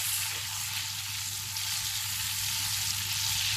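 Cinnamon stick, cloves and black cardamom frying in hot oil over high flame while being mixed, with a loud, steady, close sizzle.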